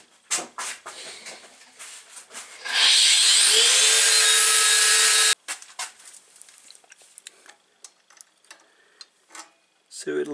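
A power tool cuts through the head of a regular steel bolt for a pit bike brake job, a loud harsh grinding whine holding steady for a few seconds, framed by scattered clanks and handling noises.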